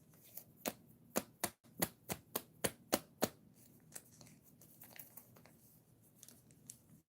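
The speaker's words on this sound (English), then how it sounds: "I found my scissors." A quick run of sharp scissor snips, about ten crisp cuts in steady rhythm, then softer handling noises and quiet rustling.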